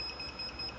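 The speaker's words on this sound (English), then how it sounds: "So timer will go off" A kitchen timer sounds off at the end of a countdown while a challenge coin is pressed in a hot Teflon sheet at home, giving steady repeating high beeps over a low background hum, fairly faint and brief.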